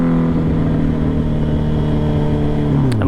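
A newly bought motorcycle with an unbaffled exhaust revs loudly up close, a raw throaty drone holding steady before the pitch swings sharply near the end, with no talk.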